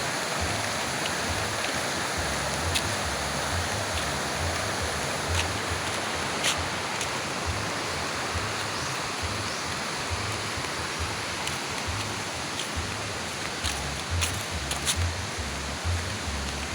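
A small forest stream flows and babbles steadily, a continuous close wash of running water with no talk over it.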